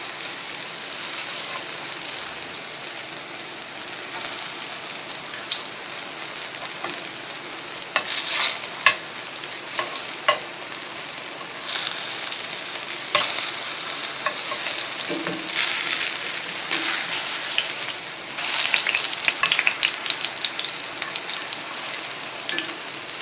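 Sweet plantain slices fry in smoking peanut oil, a constant bright sizzle close by, dotted with crackles and pops and occasional clatters as pieces are flipped.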